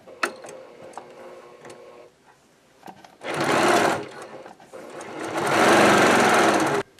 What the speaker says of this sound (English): So once you get to the machine, just going to stitch all the way around.